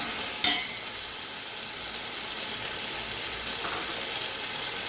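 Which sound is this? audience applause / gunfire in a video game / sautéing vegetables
sautéing vegetables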